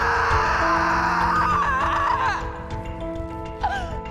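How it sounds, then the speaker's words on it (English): A woman lets out a piercing scream as her nose is broken, a loud wavering cry that rises and bends, then fades, with a shorter cry following near the end over a music bed. "Elvira let out a piercing scream."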